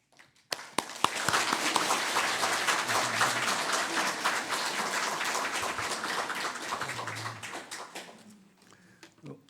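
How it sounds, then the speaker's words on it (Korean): A church congregation bursts into warm, sustained applause to welcome a pastor, many hands clapping densely for several seconds before tapering off into scattered claps. "우리 단에 올라오실 때 우리 큰 환영의 박수 한번 보내드리겠습니다."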